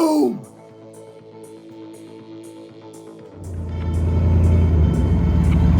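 A lifted 2006 Chevrolet Silverado 2500HD with the 6.0 engine and dual-chamber Flowmaster dual exhaust starts quietly with a low idle, then swells into a loud, deep rumble for the final seconds.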